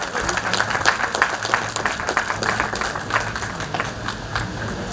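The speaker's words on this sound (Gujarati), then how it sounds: "જોરદાર તાળીઓથી વધાવો" An audience at a Rotary Club talent show claps to welcome a guest onto the stage, dense sustained applause at close range, loud and even for the whole span.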